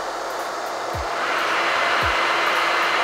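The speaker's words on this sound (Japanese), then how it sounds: "安定してドライヤーをこう動かすことができます。" A hair dryer runs steadily off a BLUETTI split-type portable power station, a loud continuous blowing whoosh that swells slightly after the first second, with two brief low thumps partway through.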